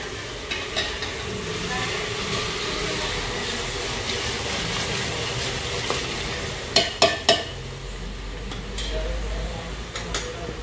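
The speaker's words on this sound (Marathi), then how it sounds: "आता 2 चम्मच आपण आलं लसणाची पेस्ट टाकूया" Onion frying with ginger-garlic paste in a pan for a dal mundi dish gives a steady close sizzle, with a few sharp clicks of stirring about two-thirds of the way through.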